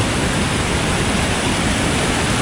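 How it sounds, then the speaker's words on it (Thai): Floodwater streams across a rural dirt road in Khammouane province, Laos, a continuous loud rushing roar with no pauses and no voices. "เบื้องนั้นก็น้ำเบื้องนี้ก็น้ำไหลไปไหลมาอยู่นี่เลย"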